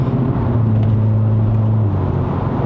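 Turbocharged engine of an MK5 Volkswagen Polo GTI held at high revs, a steady loud droning hum with a sustained low tone that drops slightly near the end, heard from inside the car.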